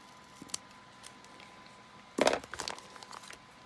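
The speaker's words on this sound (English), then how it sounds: "we'll just cut out that extra there." Scissors snip through paper while a pocket letter is trimmed for happy mail, a short burst of close crisp cutting with a few lighter follow-up snips after a quiet pause.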